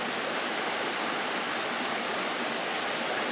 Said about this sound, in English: Now here we got water coming through here.